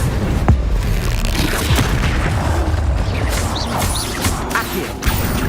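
Spell effects from the video game Hogwarts Legacy come as a dense run of booms, crashes and whooshing blasts, loud and overlapping, with sharp impacts scattered across the few seconds.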